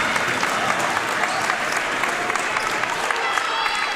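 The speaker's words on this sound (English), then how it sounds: "Listen to the crowd." Loud, dense applause and cheering from a home crowd filling a gym at a high school playoff volleyball match, steady and sustained throughout with no break.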